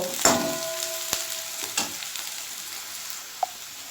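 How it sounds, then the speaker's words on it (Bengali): Steady sizzling of onions frying in a pan, with a few sharp metallic clinks of stirring near the start and a small tap later on. "পেঁয়াজটা বেশ ভাজা ভাজা হয়ে এসছে"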